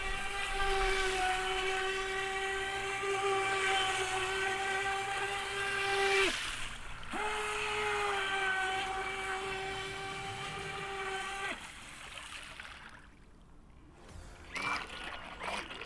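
An Eachine EBT05 57 cm RC speed boat's motor running on water, a steady loud high whine that drops out briefly and resumes before fading, with water splashing at the end.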